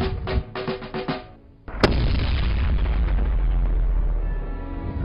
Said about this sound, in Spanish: ¡Fuego de artillería!